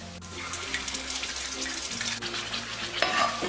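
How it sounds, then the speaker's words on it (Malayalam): A mixture of all-purpose flour stirred into chicken stock poured into a hot pan, a continuous watery pour and bubbling sizzle with light stirring, close and fairly loud. "ഇനി നമ്മൾ ഇതിലേക്ക് ഈ ചിക്കൻ സ്റ്റോക്കിൽ കലക്കി വെച്ചിരിക്കുന്ന ഓൾ പർപ്പസ് ഫ്ലോറിന്റെ കൂട്ട് ഒഴിച്ചു കൊടുക്കാം"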